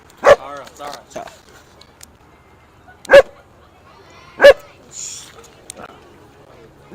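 A dog barks three times in sharp, loud single woofs spaced a couple of seconds apart, with quieter background sounds from a baseball game between them.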